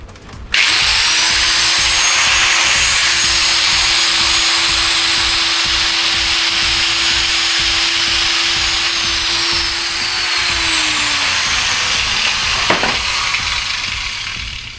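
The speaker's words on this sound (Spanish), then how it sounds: "Y por último vamos a probar esta amoladora." An angle grinder's brushed carbon-brush motor spins up abruptly and runs with a loud, steady high whine, then winds down near the end, during a bench test of motor armatures.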